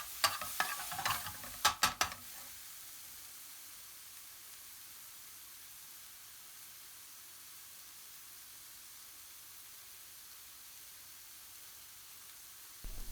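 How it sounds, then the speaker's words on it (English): Hot base gravy splashes into a pan for a British Indian restaurant-style dopiaza, giving a loud burst of sizzling and stirring for about two seconds before settling into a steady, quiet frying hiss. "Add a little bit of the hot base gravy and cook for another 30 seconds to create a"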